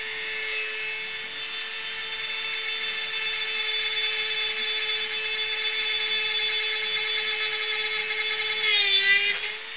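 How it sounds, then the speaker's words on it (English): Diamond bit drill boring a hole through a glass herb jar held underwater, a steady high-pitched whine with dense harmonic grinding held for most of the stretch, pitch bending as the bit breaks through near the end. "There you can see a very nice hole drilled through the glass."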